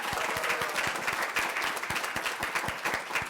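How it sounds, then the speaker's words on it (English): Dense applause from a crowd at a graduation ceremony, steady and lively clapping filling the whole stretch without any talking. "Let's give them another round of applause."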